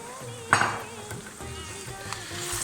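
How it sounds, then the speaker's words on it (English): Yogurt-marinated meat for a creamy white curry sizzling in a pan, with a sharp burst as it hits the hot pan followed by a steady crackle and a few stirring knocks. "I'm going to fry this for a good 6-7 minutes now"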